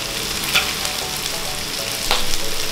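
Ingredients being stir-fried in a pan for a soy milk mushroom stew: a steady close sizzle with a couple of sharp utensil clinks against the pan, moderately loud, no voices.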